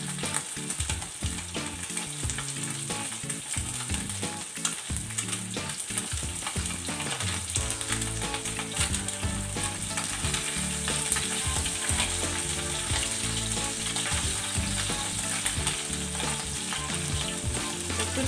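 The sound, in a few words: mourala fish coated in gram flour frying in a pan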